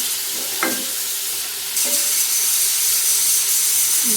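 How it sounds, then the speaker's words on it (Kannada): A turmeric-spiced mixture fries in oil with no water added, sizzling and hissing steadily, with brief clinks and scrapes from stirring in the pan. "ಇದಕ್ಕೆ ನೀರೇನು ಹಾಕಲ್ಲನು, ಹಾಗೆ ಎಣ್ಣೆಲ್ಲ ಫ್ರೈ ಮಾಡ್ಕೊಳ್ತೀನಿ"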